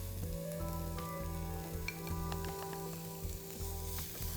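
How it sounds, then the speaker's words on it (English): Finely chopped onions sautéing in a pan with cumin and smoked paprika for a black bean veggie burger, a steady close sizzle with a low hum and a few light scrapes, no talking. "So after sauteing this for like 30 seconds, I'm going to add the finely chopped onions."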